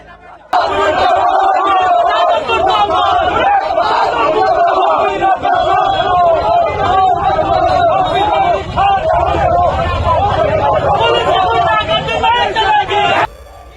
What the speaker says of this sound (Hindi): गुस्साई भीड़ योगी सरकार के मंत्री ओपी राजभर के बंगले के बाहर हंगामा और पथराव कर रही है